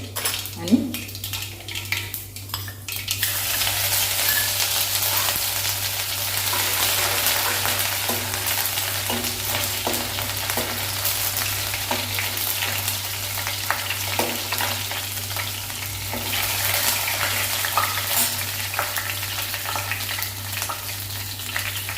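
Nuts, mustard seeds and cumin frying in hot oil in a pan: a loud, continuous close sizzle that starts after a few seconds of clinking and stirring, with occasional scrapes and faint background voices.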